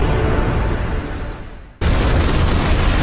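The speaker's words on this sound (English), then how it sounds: "is an explosion!" An anime fight between Sasuke and Deidara erupts in an explosion: a broad roaring rumble thins and fades, then a sudden loud blast cuts in and holds as a dense, sustained roar.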